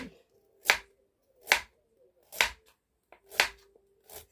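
Raw carrots being chopped with a knife on a cutting board, five crisp separate cuts at an even pace of roughly one per second, close and clear with no talk.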